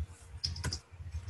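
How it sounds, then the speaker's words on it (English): Someone types on a computer keyboard, producing a few faint, quick clicks over low room hum. "I'm going to start typing."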